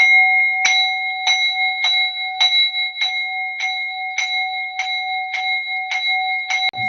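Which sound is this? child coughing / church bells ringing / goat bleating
church bells ringing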